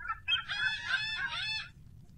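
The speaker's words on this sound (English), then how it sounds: "Wow, those birds are loud." A rooster crows once nearby, a clear, drawn-out cock-a-doodle-doo rising and wavering over about a second and a half above a faint low background rumble.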